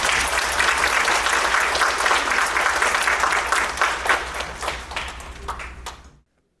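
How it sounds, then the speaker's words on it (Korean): Audience applause welcoming a pastor at a Korean church service, dense clapping at full strength that thins out and fades away near the end, followed by a brief moment of silence. "박수로 환영하겠습니다."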